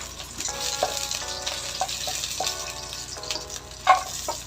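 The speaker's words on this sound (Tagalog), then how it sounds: "sa isim kawali, maglagay ako ito ng mantika at igisa na natin ang ating bawang" Garlic sautés in cooking oil in a pan, giving a steady close sizzle with scattered crackles and a few clinks of a utensil against the pan.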